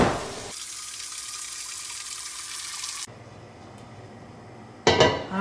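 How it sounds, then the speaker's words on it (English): Cold water runs from a kitchen tap into a vessel, a steady rushing stream that shifts tone partway as it fills, ending with a brief clatter. "I'm going to fill this up with cold water"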